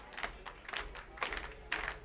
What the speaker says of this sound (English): Crowd getting behind the Baycats